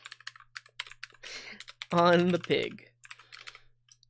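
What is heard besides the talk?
computer keyboard typing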